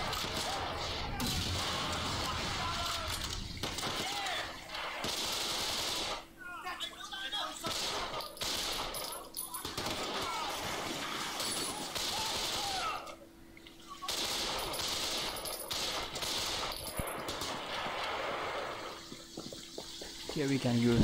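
Bursts of automatic gunfire from a weapon that can also launch grenades rattle in repeated volleys through a gunfight in the action game Sleeping Dogs, with brief pauses between the bursts.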